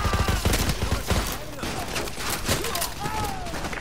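Rapid bursts of automatic gunfire and scattered shots in a Call of Duty: Modern Warfare 2 campaign battle, loud and continuous, with radio chatter and whistling projectiles layered over the firefight.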